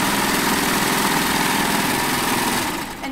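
A serger runs a safety chain stitch while overcasting fabric edges, a steady, fast mechanical whir and rapid needle patter that holds nearly constant for about three seconds before stopping.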